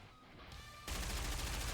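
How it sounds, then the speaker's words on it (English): Rapid gunfire from the video game Nikke, a dense volley of shots pouring in from many directions. Quieter at first, it swells into a loud, continuous barrage that fills the whole clip. "Dorothy's gunfire lashes in from all directions, hitting her mark"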